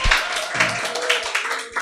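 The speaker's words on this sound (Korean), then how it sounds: "우리 윤희에게 다시 한번 박수." Scattered applause from a church congregation during a Sunday worship service, a short burst of uneven hand claps close by that thins out quickly, with a low voice faintly underneath.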